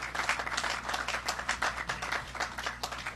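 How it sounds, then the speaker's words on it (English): Audience applause for CONTEC at a St. Kitts and Nevis tourism development event, many hands clapping in a lively, slightly uneven rhythm over a low hum, moderately quiet and with no talking. "Let us give CONTEC another applause."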